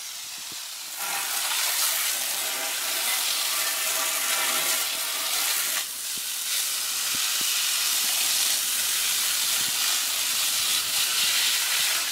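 A garden hose sprays water onto an HVAC condenser coil in a steady, bright hiss, briefly interrupted once midway before continuing at the same level.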